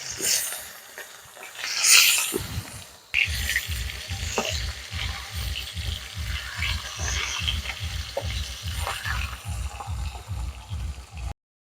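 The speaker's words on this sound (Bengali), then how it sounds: "মাছ ভাজা হয়ে গেছে এখন তুলে নেব" Turmeric-coated rohu fish pieces frying in mustard oil in a hot kadai, with loud continuous sizzling and spattering and a quick run of rhythmic low thumps as the pieces are turned and stirred.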